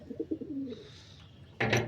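A few soft, low coos from a pigeon, followed by a brief burst of rustling or wing flutter at the end, fairly close.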